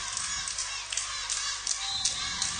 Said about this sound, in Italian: Stanno a sentire i tifosi del Diamante